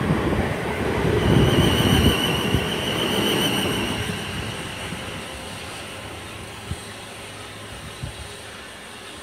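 A Class 450 electric train, unit 450-108, pulls out of Brockenhurst station bound for Lymington Pier, its rumble and high motor whine loudest at first, then easing into a softer, steadier roll with a few faint clunks.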